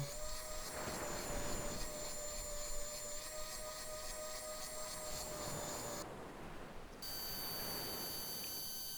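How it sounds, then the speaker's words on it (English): Wood router fitted with a bearing bit running along a template while shaping a guitar neck, giving a loud, steady high-pitched whine with a constant motor tone that drops briefly near the end before resuming. "here we go with the router, just with a bearing bit running alongside the template"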